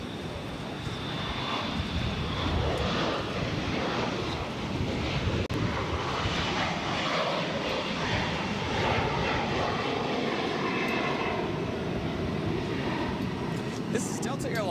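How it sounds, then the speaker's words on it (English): A Delta Air Lines Airbus A321 takes off from Boston Logan, bound for Minneapolis, with a sustained loud engine roar and rumbling buffeting that stays heavy and continuous throughout. "This is Delta Airlines 1103 taking off to Minneapolis on an A321."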